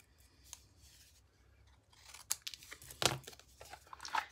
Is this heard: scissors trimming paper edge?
yes